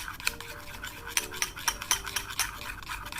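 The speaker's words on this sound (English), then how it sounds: "let's mix our Colgate" Colgate toothpaste being stirred into slime in a container, giving repeated close, soft squelching and scraping strokes with clicky, wet tool sounds against the bowl, no voices.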